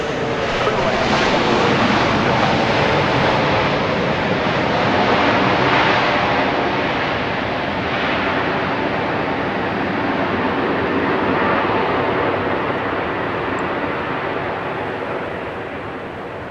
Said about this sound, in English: Flight 33 coming in from Memphis, a MAX 8